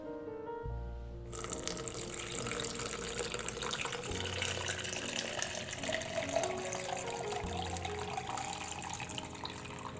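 Tap water pours into a tub for mixing Rogue Energy drink powder, a steady, moderately loud splashing rush that starts after a brief low tonal hum and continues evenly without talk.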